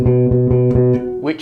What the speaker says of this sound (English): we play a B like this